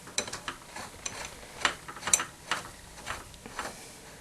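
Threaded part being screwed into a Lee Pro 1000 progressive reloading press, giving a quiet run of small ratcheting clicks and metallic ticks in an irregular rhythm, close and faint, with no talking.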